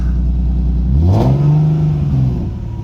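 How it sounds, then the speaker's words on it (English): A Nissan 370Z engine, running without radiators, idles low and rumbling, then revs up sharply and holds a higher, throaty drone before easing off. "The motor's running good"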